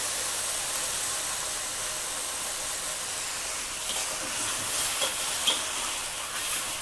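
Mixed vegetables with crispy pork fat stir-frying in a pan, sizzling loudly and continuously with a steady hiss. Occasional scrapes of stirring come through, and no voices are heard.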